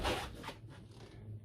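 The sliding washroom door of a Carthago Chic C-Line motorhome runs along its track in a short, close scraping glide lasting just over a second, with a couple of fading rubbing pulses.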